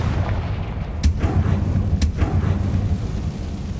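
Confringo fire spell in Hogwarts Legacy going off twice, a pair of sharp cracking bursts about a second apart over a dense, loud rumbling game soundscape.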